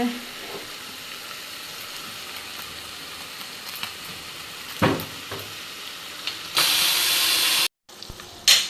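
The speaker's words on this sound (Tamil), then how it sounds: "இப்போ எண்ணெய் நல்லா கொதிச்சாச்சு அண்ட் இப்போ சிக்கனை ஃப்ரை பண்ணுறதுக்காக ஆயிலில் போட்டிருக்கோம்" Chicken fries in hot oil with curry leaves, a close crackling sizzle with scattered spatula knocks, then a loud burst of spitting oil near the end before brief silence and a few more clatters.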